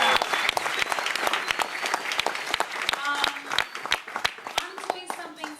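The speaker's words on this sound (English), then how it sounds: "Give it up for the crowd they brought out tonight." Loud, close audience applause at a spoken-word evening, crisp individual claps forming a dense, lively ovation, with a voice talking briefly partway through.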